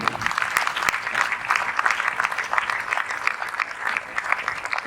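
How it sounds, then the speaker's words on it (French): Sustained applause from a church congregation, many hands clapping in a steady dense patter at moderate loudness, with a few sharper claps standing out. "Est-ce qu'on peut applaudir cette communauté?"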